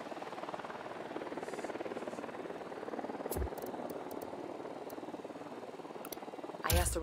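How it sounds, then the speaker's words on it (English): A recon drone flies in the Ghost Recon Wildlands video game, a steady buzzing rotor drone running continuously at an even level, with a couple of brief thumps and clicks near the end. "Drone is up."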